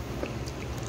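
A close bite into crunchy tanghulu, fruit coated in hard candied sugar, gives a short, dense crackle of crunching and chewing with no talking over it.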